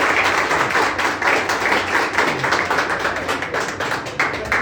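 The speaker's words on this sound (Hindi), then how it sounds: "एक बार पहले ही जोरदार तालियां बजा दो इसके लिए।" A classroom group claps loudly for a student's typing test result of 51.8 speed and 99.3 accuracy, a steady dense patter of hands close by for several seconds with no talk.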